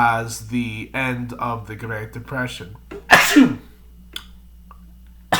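Someone talking about history breaks off with a single loud, sharp sneeze close to the mic, followed by near silence and a couple of faint clicks.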